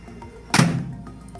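A dish goes into a Panasonic microwave oven and the door shuts with a single solid thunk, close and fairly loud, its short resonant tail fading within about half a second over a quiet room.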